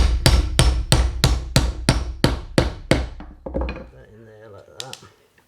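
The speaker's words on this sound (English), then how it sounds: "Get a hammer." Hammer blows drive wooden pins in a rapid, even series of about ten close, sharp knocks, then a few scattered taps as a voice talks.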